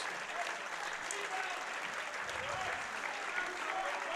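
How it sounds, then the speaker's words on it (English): A high school boys' playoff basketball crowd in a gym applauds a player after his fifth foul, steady clapping under a commentator's voice. "So he gets a round of applause,"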